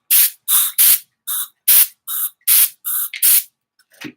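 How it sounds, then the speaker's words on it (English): Nine sharp hissing bursts of disinfectant sprayed onto a screen, each about a third of a second with brief gaps, close and loud, followed by a faint short rustle. "now I'm spraying way too much disinfectant all over my screen"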